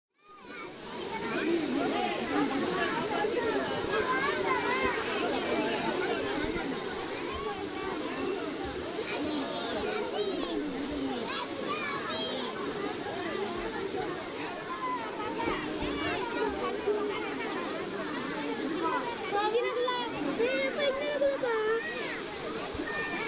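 Broad rushing water from a crowded waterfall at Rakachi Amman temple near Rajapalayam, with people bathing, splashing and chattering throughout, a steady loud wash under many voices.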